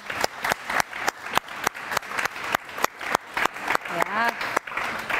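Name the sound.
audience applause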